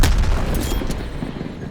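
A missile detonates in Call of Duty: Black Ops Cold War during an online match: one loud booming blast opens the moment, then its rumble fades steadily over nearly two seconds.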